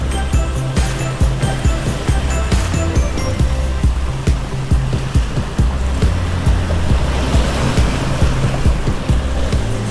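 Waves slapping against a boat out at sea off Cesme, Izmir, Turkey on a windy day, with rhythmic low thuds and rushing water repeating steadily alongside engine rumble and wind noise.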